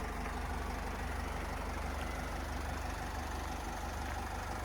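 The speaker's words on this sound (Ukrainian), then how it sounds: "От робота мотора." A 2013 Opel Vivaro 2.0 diesel van engine idles close by, its low pulsing chug constant throughout with no voices.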